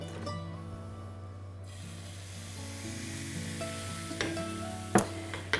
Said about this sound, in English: So I normally let my first pancake be half a pan like this.